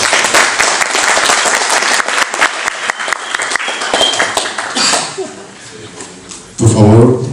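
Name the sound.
audience applause at an ecology lecture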